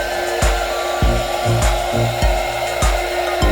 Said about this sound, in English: Use a hairdryer to heat the clip you just cut.